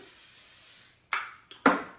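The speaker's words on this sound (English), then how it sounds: "So I've got some coconut oil spray, just spraying the pan." Short hiss of a coconut oil aerosol spray, then two quick bursts of spraying onto a pan, close up and crisp.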